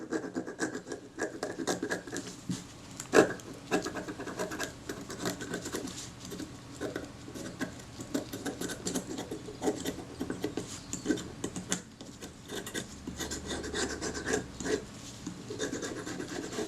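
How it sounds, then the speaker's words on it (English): The back of a scalpel blade scrapes crusted lumps of corrosion off brass parts of a Kodak Retina IIIS camera, giving continuous fine rasping and scratching close up, with a small sharp tick near the start. "I'm just using the back of my scalpel blade to scrape off the big lumps and you can see that breaking away"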